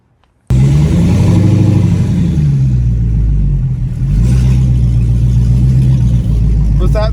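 A car fitted with a Mantic triple disc clutch and a two-step launch control revs loudly up close, its engine climbing and settling in a deep, steady rumble that runs continuously after a sudden start, with someone talking over it.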